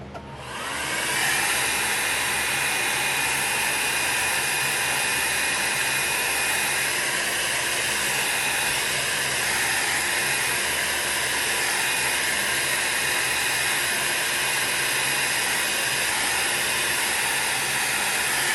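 A heat tool or air blower runs continuously at close range while drying alcohol ink on holographic sticker film. It starts abruptly and then keeps up a loud, steady whooshing roar throughout, with no talking.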